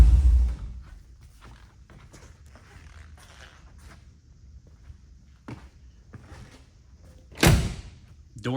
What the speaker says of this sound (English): Doors open and shut, very nice.